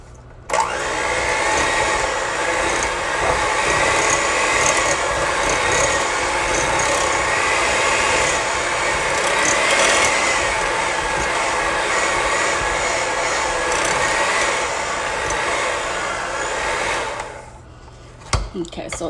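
An electric mixer beating butter and sugar for a cream cheese pound cake batter, running as a loud, steady whir from start to finish that stops just before the end and leaves a few faint knocks.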